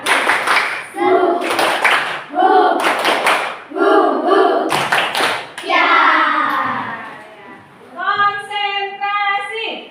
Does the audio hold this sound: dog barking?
no